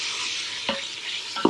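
Chorizo and ground beef browning in a Ninja Foodi, a steady close sizzle with two quick scrapes of stirring near the middle and at the end.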